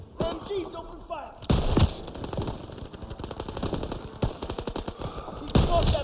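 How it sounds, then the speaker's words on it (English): Call of Duty WW2 machine guns open fire in rapid bursts, loud staccato rattles broken by heavier booms, with voices talking over the shooting. "MGs, open fire."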